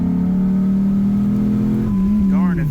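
A Dodge Viper V10 truck with roughly 500 horsepower accelerates hard with overdrive off, its engine droning loud and steady before the pitch shifts near the end, heard close from inside the cab.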